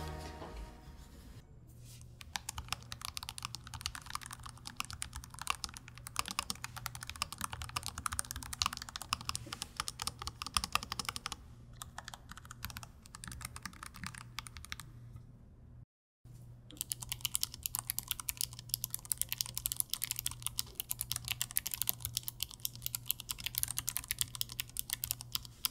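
Rapid typing clatters on a ROG Falchion RX low-profile 65% wireless gaming keyboard with two layers of silicone foam in its base, dense bursts of soft key presses with a brief pause midway, quiet and close.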